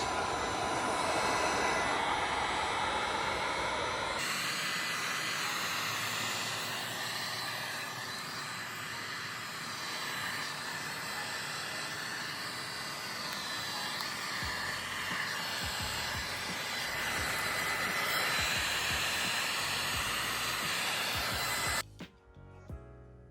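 A spray gun lays a second coat of black paint onto a Harley-Davidson engine. A loud, steady airy hiss continues for about twenty seconds without a break, then cuts off with a few small clicks at the end.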